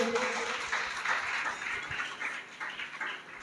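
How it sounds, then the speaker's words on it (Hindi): A congregation at a Friday worship service claps loudly together. The applause is a dense, continuous patter that fades slightly toward the end. "जोरदार ताली बजाएं खुदावन के लिए।"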